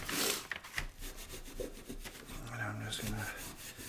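Steel wool rubbed over a painted wood finish gives a soft, steady scratchy rasp close by. It runs continuously, with a few faint thumps and light background hum.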